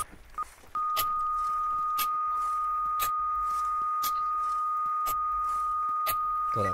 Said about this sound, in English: God, that beep was annoying.